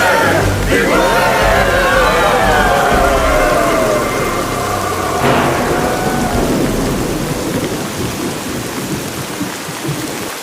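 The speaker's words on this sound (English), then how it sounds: "Is it raining in there? It's raining out here too." Cartoon sound effect of a rainstorm: loud cracks of thunder with long rolling rumbles over a steady hiss of rain, two big strikes and then a gradual fade.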